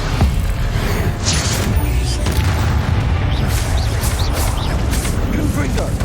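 Confringo fire-spell explosions in Hogwarts Legacy combat: repeated loud booms and crackling blasts in a dense stream of battle noise, with a voice speaking throughout.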